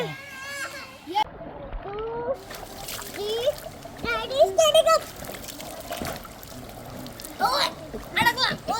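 Children splash and play in a farmhouse swimming pool, bursts of splashing water mixed with kids' excited voices and adults calling out nearby.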